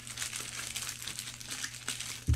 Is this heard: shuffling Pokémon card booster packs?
yes